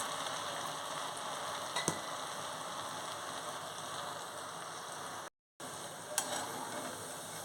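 Poha murukulu sizzle steadily in hot oil over a medium flame, a dense continuous frying crackle with a few sharper pops and one brief dropout.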